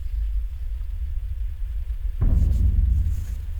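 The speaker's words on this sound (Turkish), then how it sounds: "Bir kapı kapanma yüksek bir gürültü." A loud door slams shut in a horror short film, a single sharp low thud that rises abruptly over a steady rumbling background and lingers briefly.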